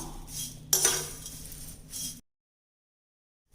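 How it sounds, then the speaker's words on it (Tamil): Spinach greens dry-roasting in a pan over low heat, stirred with a metal utensil that clinks and scrapes softly for about two seconds before everything falls silent. "நான் நல்லா அடுப்பை குறைச்சி வச்சே தான் வறுத்துட்ருக்கேங்க கொஞ்சம் கைவிடாமல் வறுத்துக்கணும்"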